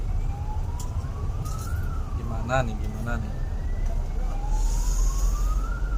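A wailing ambulance siren rises and falls in the distance amid rumbling traffic in a jam on a road trip between Bali and Jogja, while a person speaks briefly in the foreground.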